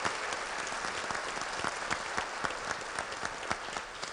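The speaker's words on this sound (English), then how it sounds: "Let's give them all a round of applause." Audience at a fraternity regional public program claps for a panel, steady crisp applause with distinct individual claps, continuing for about four seconds.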